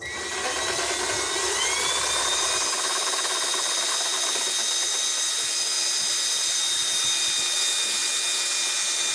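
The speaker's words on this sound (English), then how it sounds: "I'm just going to take the drill" A power drill whirs steadily at high speed, close up, as it bores through plexiglass, with a lower motor hum dropping away early.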